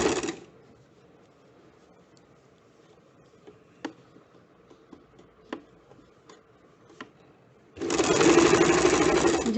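A sewing machine stitches a blouse shoulder seam, with a short burst of fast whirring stitching, a pause filled with faint ticks and handling clicks, then another loud sustained run at close range.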